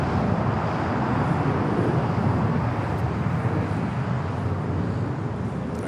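A Qantas airliner taxiing at LAX toward the Tom Bradley terminal gates, a steady, broad jet rumble and whine that stays fairly loud and constant throughout.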